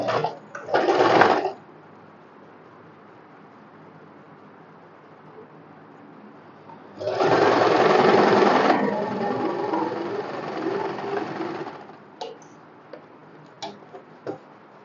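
Sewing machine double-stitching cotton fabric for a summer one-piece: a short whirring burst, a pause, then a longer run of stitching, followed by a few light ticks.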